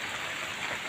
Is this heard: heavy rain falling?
yes